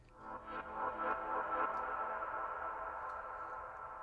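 A reversed-reverb synth tone for tech house swells up from quiet, then sustains as a smeared, washy pad with faint echoing ticks.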